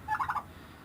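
A single quick burst of clucking from backyard chickens at feeding time, close and clear against a quiet background.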